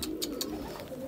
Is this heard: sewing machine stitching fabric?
no